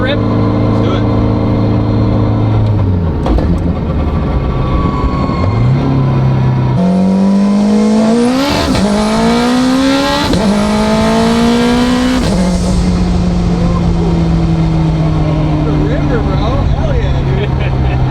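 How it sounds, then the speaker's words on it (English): A turbocharged Honda K-swapped all-wheel-drive RSX with a sequential gearbox rips hard through first gear, the engine note climbing steeply with rapid shifts, loud and close from inside the car, with people talking over it. "Do a little first gear rip."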